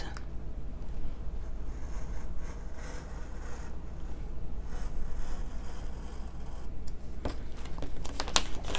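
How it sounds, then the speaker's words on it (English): A craft cutting knife slicing an aperture out of card along a ruler: a few sharp, scratchy strokes near the end, over a steady background hum. "we need to take our cutting knife, and we need to cut this aperture out"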